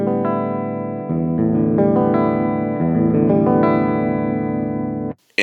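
Sustained electric guitar chords strummed and changed several times, ringing clearly with a processed, effected tone before cutting off near the end.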